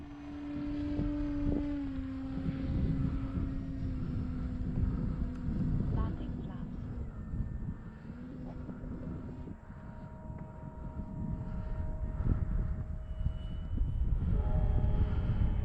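A high-pitched turbine whine from a Carbon Z T-28 RC model plane on its second flight rises and holds steady, with engine noise building and shifting pitch as it accelerates for takeoff.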